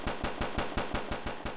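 An auto turret fires in the Team-Z zombie survival video game, a rapid, evenly spaced burst of about nine sharp shots, loud and close, with no voices.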